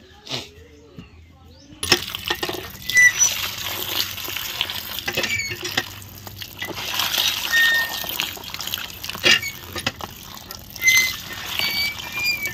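Fishing bait for boal catfish is washed by hand in water, giving continuous close sloshing, trickling and splashing that rises and falls for several seconds.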